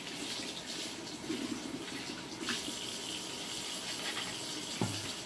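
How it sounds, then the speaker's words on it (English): Hot water runs steadily from a faucet into a sink, a continuous close splashing rush with a few small knocks near the end. "you're going to run the water until it gets hot"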